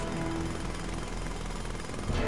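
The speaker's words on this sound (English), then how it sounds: "Can he drill through," A jackhammer-like drill in The LEGO Movie Videogame pounds through the streets, a loud, continuous rapid hammering that stays steady and close throughout with no talking.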